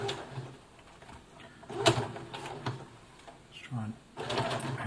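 A Brother FS60X domestic sewing machine stitches through a thick denim jeans hem, giving a whirring mechanical stitching that surges and eases under someone talking nearby.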